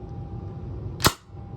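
An HPA tank-powered M4 carbine airsoft gun fires a single sharp, snappy shot over a chronograph, a brief crack that stands out above a low background hum.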